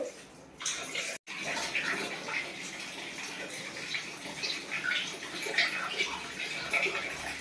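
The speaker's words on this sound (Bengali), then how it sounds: "মাথাটা ভালো করে ধুয়ে নিই।" Water gushes and splashes steadily as someone's hair is washed at home, with a continuous pouring sound broken by a brief pause near the start and no clear talking.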